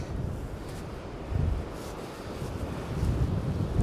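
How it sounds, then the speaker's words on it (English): Strong wind on the Cornwall coast buffets the microphone in a loud, low rumble that swells and eases without letup. "It's just a shame it's really windy."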